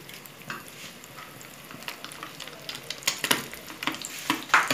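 Beef tripe frying in hot oil, a steady crackling sizzle with bursts of louder spattering pops that grow denser toward the end, close and continuous.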